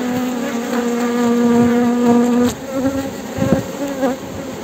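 Honey bees swarm around a hive while a queen is being introduced, producing a loud close buzzing hum with sharp individual wingbeat tones passing near, continuous throughout and without talking.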